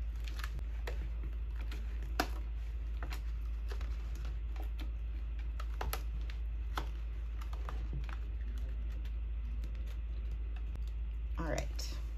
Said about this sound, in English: will have some fun peeling up the masking fluid